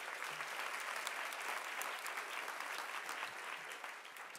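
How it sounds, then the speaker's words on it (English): A steady, dense round of applause from a large audience at a Women in Entertainment award ceremony, sustained evenly throughout without interruption. "give her another round of applause"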